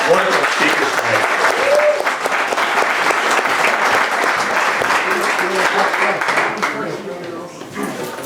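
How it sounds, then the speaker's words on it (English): An audience at a saloon history talk applauds the speakers with dense, sustained clapping and a few voices in the crowd, tapering off near the end. "big round of applause for our wonderful speakers tonight"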